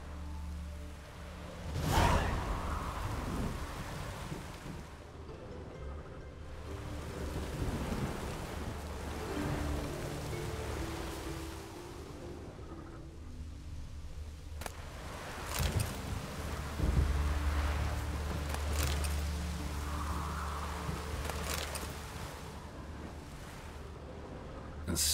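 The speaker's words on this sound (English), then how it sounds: "Storm, damn it." Steady rain and rumbling storm ambience from The Witcher 3: Wild Hunt on Nintendo Switch, a continuous low roar with swelling gusts and occasional heavier bursts, fairly loud throughout with no talking.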